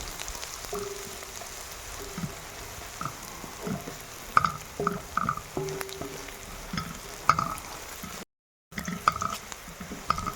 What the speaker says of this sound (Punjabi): ਤੜਕਾ ਆਪਣਾ ਭੁੱਜ ਕੇ ਬਿਲਕੁਲ ਤਿਆਰ ਹੋ ਗਿਆ ਆ